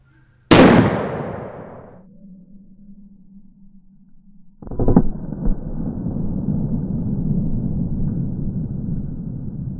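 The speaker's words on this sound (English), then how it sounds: "we're giving our second shot to the Powerbelt ELR 50 caliber" A single sharp muzzleloader blast from a 50 caliber CVA Accura firing a Powerbelt ELR bullet, loud and sudden with a ringing decay, then a fainter thump and rumbling noise several seconds later.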